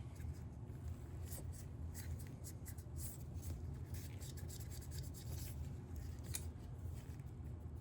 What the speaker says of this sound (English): Get my round swab, go up underneath my gas tube